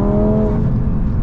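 Loud, close Audi RS3 engine tuned to 520 hp, held at full throttle in a steady high-pitched roar with no talking.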